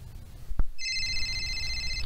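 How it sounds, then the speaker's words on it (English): Telephone ringing indoors, a bright electronic trill that starts after a brief knock and continues steadily to the end, fairly close and clear. "Oh, our phone's ringing."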